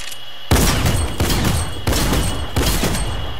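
A legendary tactical shotgun fires in a video game, four loud blasts at an even rapid pace with booming tails running into one another, close and dominant, with no talking.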